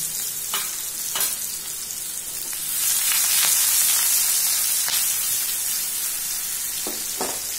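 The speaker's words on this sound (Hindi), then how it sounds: "मैं इसमें ये अनियंस डाल रहा हूँ और हरी मिर्च भी डाल देंगे और ये जिंजर भी डाल देंगे और थोड़ा सॉटे करेंगे" Onions, green chili and ginger sauté in a pan over a high flame for dhaba-style soy keema, giving a steady bright sizzle that swells midway, with a few sharp scraping stirs.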